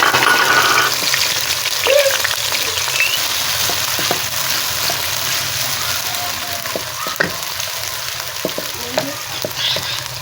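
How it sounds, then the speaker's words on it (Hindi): Ginger and garlic fry in hot oil in a kadhai for a mixed dal tadka, with a steady close sizzle and crackle running the whole way, plus occasional stirring scrapes and no talking. "कढ़ाई में हमने वो तेल डाल के उसमें अदरक लहसुन डाल दिया"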